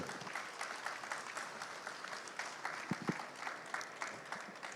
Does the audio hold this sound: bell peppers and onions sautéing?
no